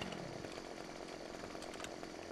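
A chainsaw in Farming Simulator 2015 cutting into a tree, its engine buzzing loud and steady without a break and filling the whole stretch, with no talk over it.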